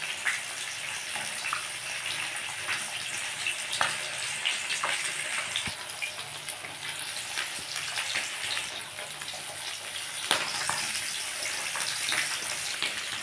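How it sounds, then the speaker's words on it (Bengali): Parshe fish sizzling in oil in a wok, a steady hissing crackle with scattered pops, continuous and fairly close, no voices. "আমি এদিকে কড়াই পার্শে মাছগুলো দিয়ে দিয়েছি ভেজে নেওয়ার জন্য"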